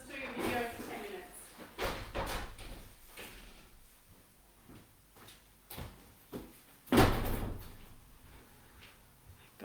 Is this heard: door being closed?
yes